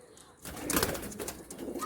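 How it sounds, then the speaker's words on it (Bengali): A Pakistani golden teddy pigeon coos close by, a brief soft throaty call rising after a quiet start, with no one speaking. "আমাদের এখানে টেডি পায়রা স্ট্যান্ডিং দেখুন"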